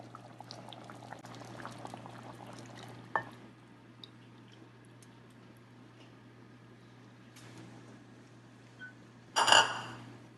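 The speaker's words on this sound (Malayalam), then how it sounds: "ആൽമണ്ട് മിൽക്ക് ഒഴിക്കാം." Vermicelli kheer simmers quietly in a pot, a soft, steady bubbling, broken by brief clinks and a sudden louder splash as almond milk is poured in near the end.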